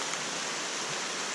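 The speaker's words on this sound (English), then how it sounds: "Wow, that's a lot of rain." Heavy rain pours steadily on a forest trail in the Makiki Valley area, a dense, even hiss of downpour with no pauses, filling the whole moment.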